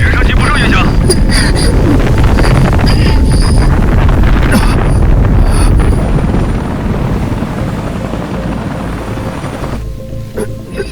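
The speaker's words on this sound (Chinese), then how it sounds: "直升机不受影响。" A helicopter flies in an animated sci-fi series: a loud, continuous rotor roar with buffeting wind noise that slowly eases toward the end.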